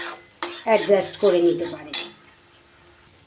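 A spoon scraping and clinking against a pan while spicy masala paste is stirred and fried in ghee for chicken curry, several close metallic strokes with a voice speaking softly underneath.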